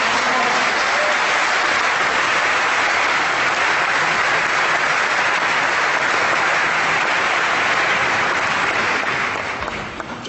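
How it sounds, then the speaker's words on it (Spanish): A large audience at a debate welcomes a speaker, clapping warmly and continuously, a dense sustained wash of applause that begins to thin out at the very end. "lo recibimos con este cálido aplauso."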